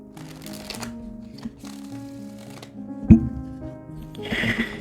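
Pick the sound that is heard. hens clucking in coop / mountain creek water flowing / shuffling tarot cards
shuffling tarot cards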